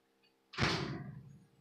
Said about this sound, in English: It's windy outside, so the door just slammed.